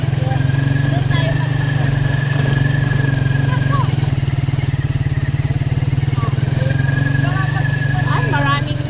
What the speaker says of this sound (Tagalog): Ayan o, may motor.